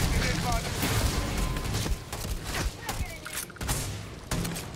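Combat gunfire in the video game Starfield, dense bursts of shots and thuds layered under a continuous game soundscape, loud and busy throughout.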